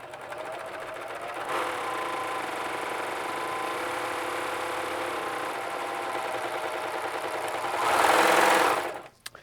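A serger runs steadily for several seconds, finishing the raw edge of pillowcase fabric with a fast, even mechanical whir that swells louder near the end before stopping.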